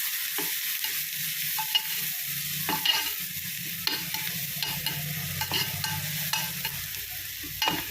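Ivy gourd masala being stir-fried in a pan, a steady sizzle broken by repeated scraping strokes of a spatula at an irregular rhythm, close-up with no voices.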